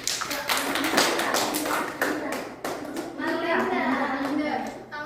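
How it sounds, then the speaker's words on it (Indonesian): Classroom applause for a student in a microteaching practice lesson, a scattered patter of hand claps from a small group of students running steadily throughout, with voices talking over it. "Tepuk tangan untuk Marlinda."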